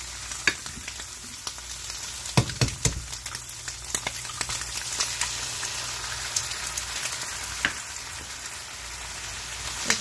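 Fresh-laid eggs with ham sizzling in a pan, a steady quiet crackle with scattered sharper pops and a few louder spits, heard alone without talk.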